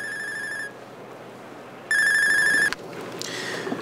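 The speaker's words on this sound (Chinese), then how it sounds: "我接电话。" A telephone rings indoors in two electronic ringtone bursts, the second louder, cut off abruptly and followed by faint room noise.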